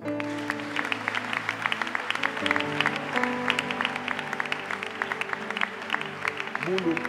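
A church congregation applauds at a worship service, a steady patter of many hands clapping with a rhythmic beat, at moderate level, with a sustained tone underneath.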